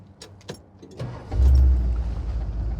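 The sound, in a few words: 1970 Dodge Challenger 440 V8 engine starting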